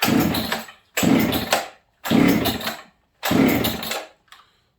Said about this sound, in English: let's see if this saw will fire